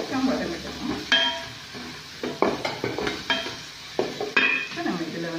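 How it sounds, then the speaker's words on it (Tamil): Garlic, ginger and curry leaves sauté in a pan, with a soft sizzle under repeated scraping stirs and light clinks of a spoon against the pan. "ஒரு நாலஞ்சு பல்லு பூண்டு, ஒரு துண்டு இஞ்சி, கொஞ்சம் கருவேப்பிலை, கொஞ்சம் வதங்கட்டணும்"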